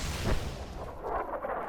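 Explosions and artillery fire in the video game Fallout: New Vegas: a deep, heavy boom near the start followed by a rolling, rumbling blast that fades out over the rest of the clip.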